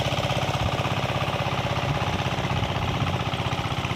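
A Landmaster hand tractor engine runs steadily in a farm field, a loud, close, rapid thumping beat with strong vibration and no pauses or talk.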